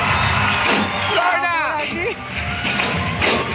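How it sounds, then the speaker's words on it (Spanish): A loud live talk-show crowd applauds and whoops for actress Lorna Cepeda, a steady wash of clapping and cheering with shouts rising over it. "¡Fuerte el aplauso a Lorna!"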